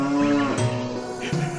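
Cows mooing in a hacked Zelda Ocarina of Time game, a few loud, low, drawn-out moos in quick succession with no talking.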